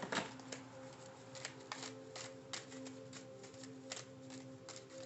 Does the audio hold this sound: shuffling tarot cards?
yes